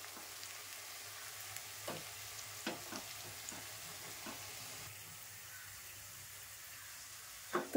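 Sliced onions fry in a pan for chicken biryani, a faint steady sizzle with a few soft clicks and scrapes of stirring.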